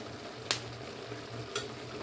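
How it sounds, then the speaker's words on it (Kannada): Ground ginger-garlic spice paste sizzles softly in a pan for jackfruit biryani, a low steady frying hiss with two brief scraping stirs of a spoon. "ರುಬ್ಬಿಟ್ಕೊಂಡಿದ್ದನ್ನ ಹಾಕ್ಕೊಂಡು ತಿರುಗಿಸ್ಕೊಂಡಿದ್ದೀನಿ"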